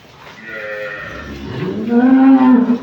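One drawn-out moo from a double-bodied first-lactation dairy cow of two teeth, close and loud, climbing in pitch and swelling toward the end over low background noise.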